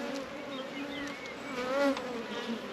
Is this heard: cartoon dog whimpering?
no